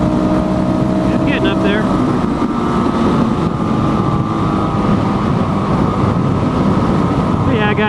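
A Suzuki DRZ400 motorcycle engine at full throttle in fifth gear, a loud continuous droning roar with heavy wind rush, while a rider speaks briefly over it.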